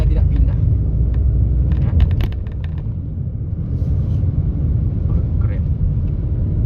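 A Daihatsu Rocky 1200 cc car climbs a hill held in third gear, its engine a continuous loud low rumble heard from inside the cabin, with someone talking over it.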